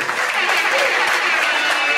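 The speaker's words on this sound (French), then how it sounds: "je vais vous demander encore d'applaudir cette Déborah." An audience at a wedding reception claps steadily and loudly in a dense, continuous round of applause lasting the whole moment.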